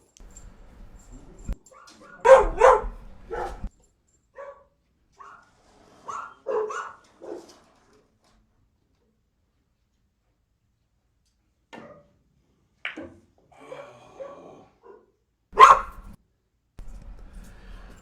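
Dogs bark in scattered bursts with quieter whimpers and yips between, separated by stretches of near silence, heard from a moderate distance during a billiards match.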